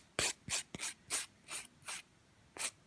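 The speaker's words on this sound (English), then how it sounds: "as I'm filing the top and edge of the nail" A nail file rasps across the top and edge of a fingernail in eight short, separate close strokes, quiet and scratchy, with brief pauses between them.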